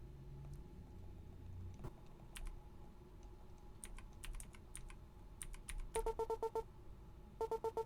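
Keyboard typing inside the video game Buddy Simulator 1984, sparse scattered key clicks at first, then two quick rapid bursts of keystrokes near the end over a low background hum.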